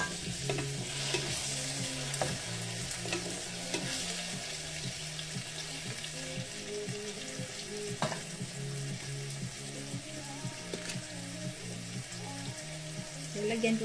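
Tomatoes and cabbage frying together in a pan, a constant close sizzle with repeated stirring scrapes, while a low rhythmic hum runs underneath the whole time.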